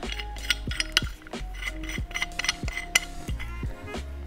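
Metal parts of a valve spring compressor for a vintage Honda motorcycle are threaded together, giving soft, irregular clicks, clinks and ratcheting taps close by with no talk.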